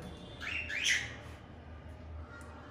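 A lutino cockatiel in breeding condition gives a short burst of bright chirping calls near the start, then a quiet room with faint low background noise.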